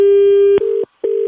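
Telephone tone after a call is hung up: a steady electronic beep held for over half a second, then broken into repeated short pulses with a brief silent gap, loud and alone.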